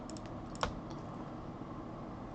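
Keys on a computer keyboard clack faintly in a few quick taps, with one sharper keystroke, over a steady low background hiss while data is entered.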